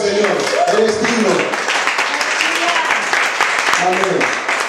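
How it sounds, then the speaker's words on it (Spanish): A church congregation at a Sunday service applauds, sustained clapping blending with raised voices and exclamations throughout. "Den un aplauso al Señor."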